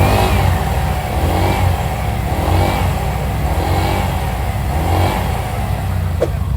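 Honda Vario scooter engine running close up during a sound check, a loud steady mid-pitched drone with gentle rises and falls in revs throughout, no talk.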